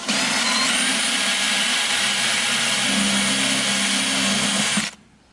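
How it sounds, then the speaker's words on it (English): A power drill whines steadily at high speed for about five seconds, close and loud, drilling a hole in a plant pot, then cuts off abruptly. "just go down here like that and drill a hole."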